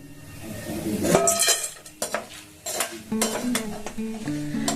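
Tana naru, a Bankura sweet, being fried in refined oil and lifted out of the pan, heard as a run of metal utensil scrapes and clinks against the pan over a faint background sizzle, with no talking.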